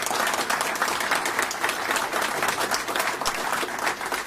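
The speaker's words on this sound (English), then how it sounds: "They deserve a round of applause, Bill." Applause for Bob and John Lynch at a Morgantown minor league baseball announcement, a steady wash of many hands clapping without a break, fairly distant and even in level.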